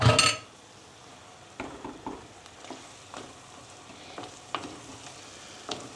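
Onions and meat fry with tomato paste for a dry bean stew, a burst of loud sizzle at the start settling into a steady, quieter fry broken by occasional spoon scrapes and clinks against the pan.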